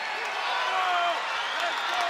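A crowd at an NCAA college wrestling match between CBU and Iowa in 2023 cheers and claps, forming a steady, moderately loud roar under a commentator talking.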